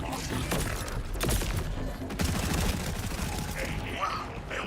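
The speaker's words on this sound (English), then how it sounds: "Those red grenades are pretty good." Red grenades detonate in rapid succession in a fantasy action game, a dense crackling barrage of overlapping blasts and clattering impacts that continues steadily throughout at moderate loudness.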